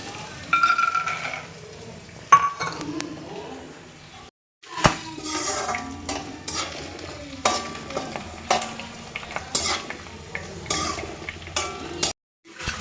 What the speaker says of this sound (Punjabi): ਮੂੰਗਫਲੀ ਵੀ ਹਮੇਸ਼ਾ ਕੱਚੀ ਨਹੀਂ ਪਾਉਣੀ ਤੇ ਇਹ ਹਮੇਸ਼ਾ ਫਰਾਈ ਕਰਕੇ ਹੀ ਪਾਉਣੀ ਹੈ